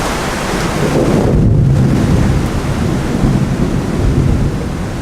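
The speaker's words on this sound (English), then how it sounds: "A couple of hours later, we were deluged in a thunderstorm." A heavy thunderstorm deluges Rio de Janeiro, with a loud continuous roar of rain and rumbling thunder blended with wind buffeting the microphone, close and unbroken throughout.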